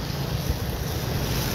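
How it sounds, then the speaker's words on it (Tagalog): Overflowing creek water rushes strongly in a steady, broad roar close by, with wind buffeting the microphone and no voices. "Kaso lang malakas talaga yung tubig, umapaw."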